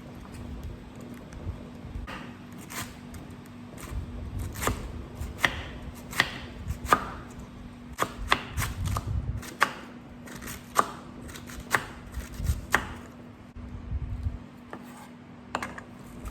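A knife slices lettuce thinly on a cutting board for a gado gado salad, giving quick, crisp, irregular chops close by with a faint steady hum underneath.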